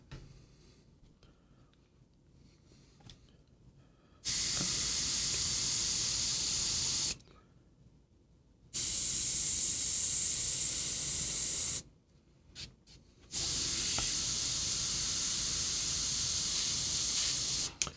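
An airbrush sprays contrast paint onto a Black Knight miniature in three bursts of steady, close hiss, separated by short quiet gaps.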